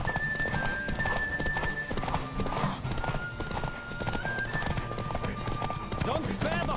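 Hooves of a racing horse in The Witcher 3 drum in a rapid, steady gallop close by, with a whinny or two and a game voice talking over the running rhythm.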